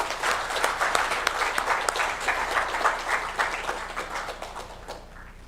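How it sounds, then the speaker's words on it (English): Audience applause for young panelists at a youth dialogue summit in Belize, a dense, steady wash of clapping from a sizable crowd that holds strong for about five seconds before thinning at the end. "Let's give them our first round of applause."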